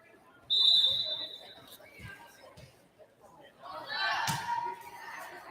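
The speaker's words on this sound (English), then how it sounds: "Senior Ava Brock getting ready to serve as soon as she's given the whistle." A single sharp referee whistle blows near the start of a volleyball serve in a high school gym, followed by crowd murmur and echoing hall acoustics with a thud later.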